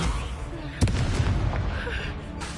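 A sharp burst for the Incendio fire spell in Hogwarts Legacy, one loud crack followed by crackling flame and game ambience.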